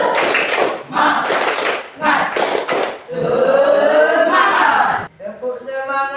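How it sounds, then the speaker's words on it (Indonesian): A school class performs a rhythmic spirit clap in unison, several bursts of group clapping in a patterned beat, followed by voices chanting and a teacher speaking. "Tepuk semangat."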